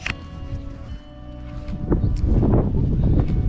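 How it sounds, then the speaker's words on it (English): Gusty wind buffets the microphone at a small cemetery, building from a low rumble into a louder roaring rush in the second half. "Windy."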